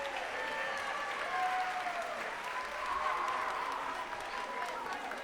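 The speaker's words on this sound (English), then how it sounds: "We want to give you a round of applause." A crowd at a high school concert band winter concert claps and cheers in a sustained round of applause, with voices and whistles rising over the clapping.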